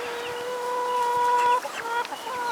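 Barnyard mixed-breed chickens cluck and call on a homestead, several birds close together with overlapping drawn-out notes and brief sharper clucks.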